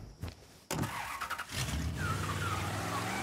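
A car engine roars and revs steadily during a race in the Mafia III: Definitive Edition moonshine-running mission, kicking in loudly after a brief quieter start, with tire squeal and continuous motor drone.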